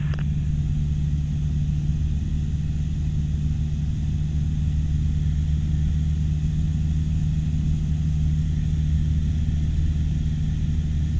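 Steady drone of a small training aircraft's engine driving a fixed-pitch propeller, heard from inside the cockpit as a loud, unbroken hum that holds at the same level throughout.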